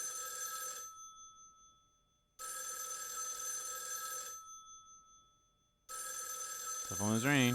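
Telephone ringing in the video game Raidou Remastered: three loud, bright electronic bursts of bell-like trilling separated by short silences, with a voice starting to speak at the very end.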